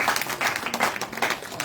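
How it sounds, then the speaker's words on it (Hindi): Brief burst of audience applause at a BJP poetry gathering in Jammu and Kashmir, dense and fairly steady clapping heard at moderate level through the whole short stretch. "एसएसपी साहब का जोरदार तालियां।"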